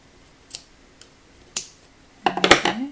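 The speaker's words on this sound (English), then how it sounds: "we're going to trim down the tail end on the inside" Scissors snipping a crochet yarn tail, three short crisp snips spaced apart, then a brief cluster of rustling and clicking handling noises.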